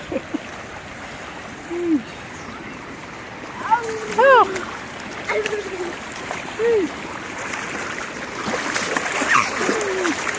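Water splashes in a makeshift pool set up on a house rooftop, brief sloshes and splatters heard between children's and adults' voices and squeals.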